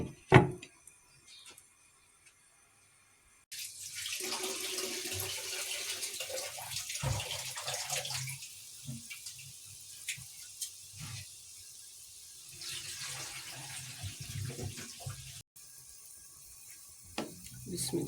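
Steady water noise from a covered pot of pea pulao cooking, liquid bubbling and simmering, runs for most of the clip after a quiet start, with faint clinks and a brief pause near the end.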